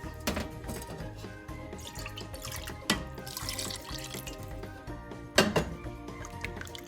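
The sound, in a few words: hot water being poured into sambar pot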